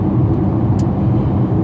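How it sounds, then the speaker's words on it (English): A car driving along LA 415 on a scenic drive gives a steady, close low rumble of engine and road noise from inside the cabin, with no voices. "So I'm taking a scenic drive here."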